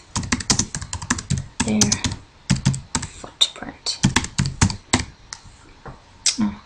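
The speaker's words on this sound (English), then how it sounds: "Let's say I'm going to type something first." Rapid bursts of keystrokes on a computer keyboard, close and clear, with uneven rhythm and brief pauses between runs of clicks; a voice says a single word partway through.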